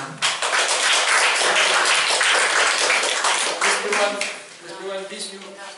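Audience applause welcoming a singer back onto a makeshift stage, dense clapping that fades toward the end as voices come in.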